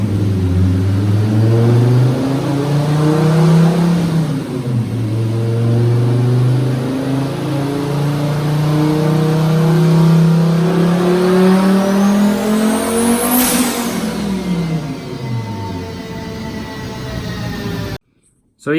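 Highly tuned turbocharged Volvo 850 with about 650 wheel horsepower, screaming on a dyno toward 8500 RPM, loud and close, with a long sustained rising pull, a brief dip, then a falling wind-down before cutting off.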